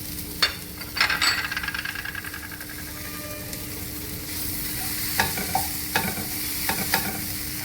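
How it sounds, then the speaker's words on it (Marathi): Coriander seeds being stirred into an onion-tomato gravy frying in a pan, with a steady soft sizzle throughout and intermittent scraping stirs and light clinks of the spoon, close up and with no talking. "कांदा टोमॅटो चांगला एकजीव झाला आहे. त्यातच मी आता कोथिंबीर बी टाकते आहे."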